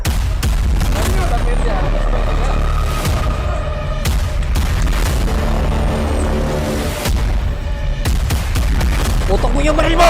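Loud, dense video-game gunfire with repeated booming shots and bursts, steady throughout, under excited talk from players.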